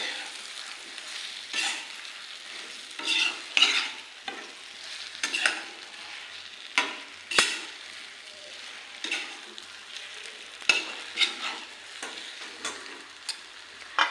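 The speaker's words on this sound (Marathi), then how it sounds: "तेल ओतायचं आहे आता तेल पण तुमच्या आवडीनुसारच हां मिक्स करून घ्यायचं" Oil-coated stuffed brinjals, village-style bharli vangi, get stirred in a hot pan, with repeated scraping spoon strokes in an uneven rhythm over a soft, low sizzle, close by and without voices.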